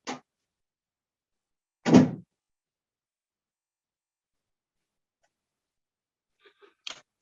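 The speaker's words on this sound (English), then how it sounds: "open the door?" Door handled indoors: a short click at the start, a single louder thunk of the door opening, then faint clicks and a brief knock near the end, with silence in between.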